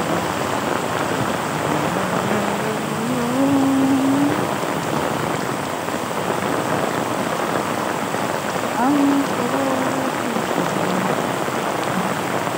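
Heavy rain pours down steadily on a street, a dense loud hiss that fills the whole stretch, with a few faint tonal sounds passing beneath it.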